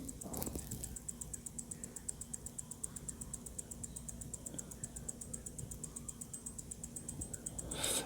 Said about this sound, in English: when you hear the ticking of the higher beat 9415,